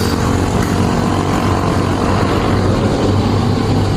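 A Suzuki Raider motorcycle on the road toward Olongapo City, its engine droning steadily up close alongside heavy wind rush for the whole stretch, with no talking.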